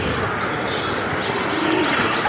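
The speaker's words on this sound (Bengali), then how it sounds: "এই যে কবুতর" Pigeons on a rooftop coo softly, their calls faint and half-buried under a steady broadband rush of wind or background noise for a couple of seconds.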